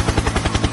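Rapid rhythmic chopping thuds of a helicopter sound effect, loud and close, pulsing steadily for under a second.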